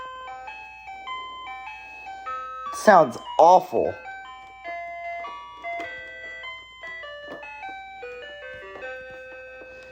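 An electronic children's toy plays a simple beeping electronic melody of stepped tones, interrupted midway by a couple of louder warbling bursts, with a person briefly speaking over it.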